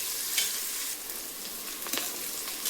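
Shallots fry in oil for a mutton curry, a bright, dense sizzle broken by a few quick scraping stirs.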